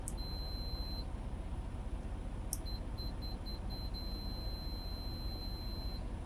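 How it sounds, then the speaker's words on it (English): A multimeter continuity test gives a clean, steady high-pitched beep: one long tone, then a second sustained tone broken by a few short chirps, close and clear over a low background hum. "it's going to give you a beep noise if you have a good, clean connection"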